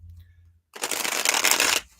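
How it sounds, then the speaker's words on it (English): Tarot cards are shuffled in one quick, close burst of riffling lasting about a second, loud against a quiet room, with a low murmur just before. "Shuffle these up."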